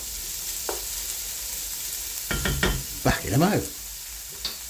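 Onion and cumin seeds fry in a pan, a steady close sizzle running throughout, with a few louder scraping stirs near the end and a brief spoken remark early on.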